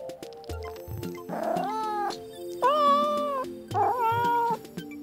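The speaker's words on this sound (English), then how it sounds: "So, Bub, this is our main cat area where we can have up to 300 cats at any given time" Several cats in a large shelter cat area with cat condos meow and caterwaul in a series of drawn-out, wavering cries, loud and close, with short pauses between calls.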